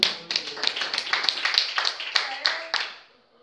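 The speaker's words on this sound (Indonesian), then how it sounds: "Tepuk tangan." About a dozen quick, steady hand claps in a lively rhythm, fairly close, fading out at the end.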